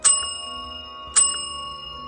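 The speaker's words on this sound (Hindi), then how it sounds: "मैंने घंटी बजाई," An old reception desk bell is struck twice, each a bright metallic ding with a long ringing decay, about a second apart, close and isolated in a quiet room.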